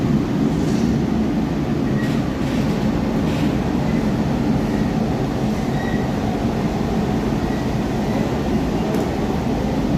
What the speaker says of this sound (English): Finally, a train has departed. It's departing Mazar metro station.